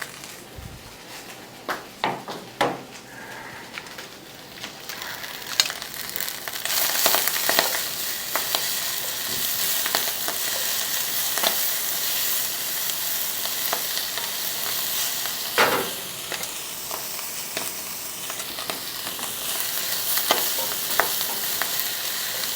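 Green onion whites, garlic, chili powder and chipotles in adobo sauce sizzling loudly in a pan while being stirred, a dense close hiss with scattered scrapes and clinks, no voices.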